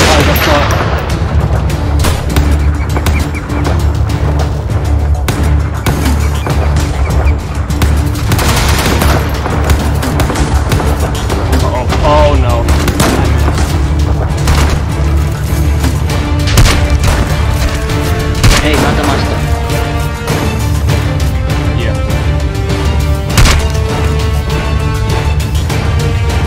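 Dense, continuous gunfire in a modded Minecraft war game, rapid automatic bursts and booms layered thickly and loudly throughout, with occasional voices underneath.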